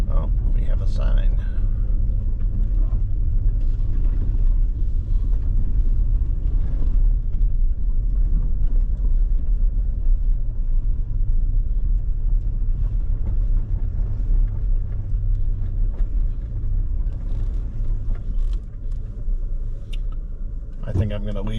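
A car engine rumbles low and steady while driving along a country road, with faint, intermittent talk inside the cabin.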